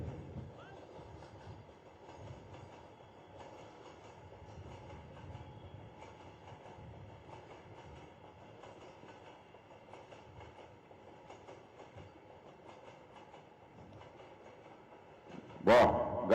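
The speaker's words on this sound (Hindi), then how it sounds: "वाह, गाड़ी निकल गई।" A train rumbles past near an outdoor election rally in Mankapur, Uttar Pradesh, a faint steady rolling drone lasting many seconds before a sudden loud burst near the end.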